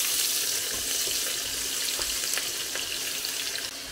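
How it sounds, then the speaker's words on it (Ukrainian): Chopped onions fry in aromatic oil left over from cooking aubergines, a steady, moderately quiet sizzle and crackle running without pause, with no voices over it. "І тепер в цій же олії, ароматної та смачної, ми будемо смажити цибулю"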